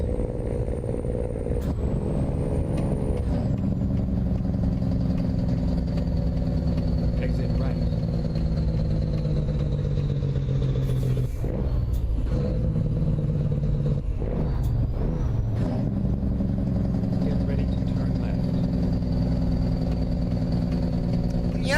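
A truck engine in American Truck Simulator rumbles steadily through the whole stretch, its tone shifting a few times as it revs and eases, with faint clatter underneath.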